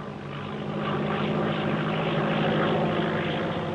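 A propeller airplane drones steadily overhead in a 1936 film scene, a continuous loud engine hum with a low harmonic throb that swells slightly and holds, with no voices.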